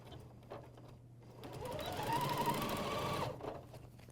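An AirThread 2000D serger stitching down a bathrobe facing, its motor whirring up into a steady, fast run for about two seconds before stopping, close and alone.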